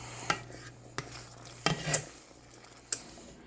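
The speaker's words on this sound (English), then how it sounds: "Mix that up thoroughly and get it marrying together before we assemble our pie." A spoon stirs a thick lamb and marinara pie filling in a pan, with a few distinct scrapes and clinks spread through a quiet stretch and a faint sizzle underneath, close to the listener with no voices.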